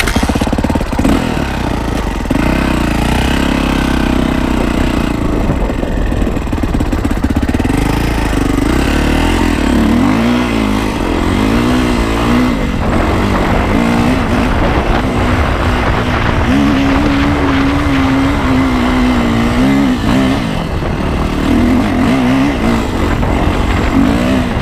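A Yamaha YZ450F dirt bike engine runs close by, loud and continuous, with a burbling idle that rises and falls in short revs throughout.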